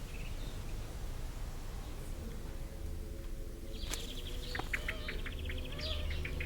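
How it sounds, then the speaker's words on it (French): Sparrows sing in a hedge outdoors, a cluster of bright chirps and short trills starting about midway and continuing over a steady low background hum, moderately close. "Les moineaux, dans la haie derrière nous, chantent comme des fous."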